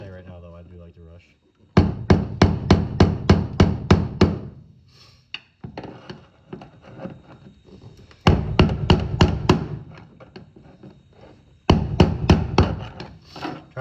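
A screwdriver hammered against a fuel pump part on the fuel tank of a 2007-2014 Chevrolet Silverado, delivered in fast rapid bursts of sharp metallic blows, close and loud, with pauses and some handling noise between.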